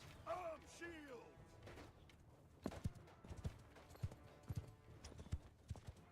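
Horse hooves clop in a medieval battle game, quiet and sparse at first, then an irregular run of sharp hoof strikes with faint creaks, while a horse-like whinny sounds early on.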